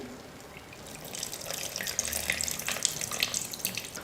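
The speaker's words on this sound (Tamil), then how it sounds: "கரைச்சி வச்சுருந்த புளியை வந்து இப்போ நான் சேர்த்துக்கிறேன்." Dissolved tamarind extract poured into a masala for Tamil kulambu: a soft, steady liquid pour and splash, fairly faint and close, rising slightly toward the end, with no voices.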